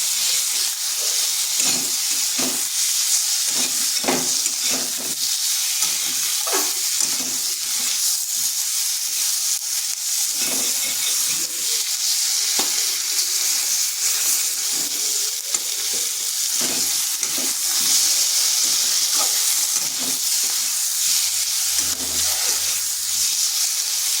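Cabbage sautés in a pan with chili, coriander and turmeric powder, a steady loud sizzle broken by repeated scraping stirs of a spatula throughout.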